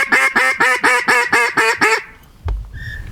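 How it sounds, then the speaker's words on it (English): A flock of ducks passing overhead on a small marsh duck hunt, quacking loudly in a rapid, regular series of about eight calls that stop abruptly, followed by a faint thump and quieter background. "Bunch of ducks coming from the back right"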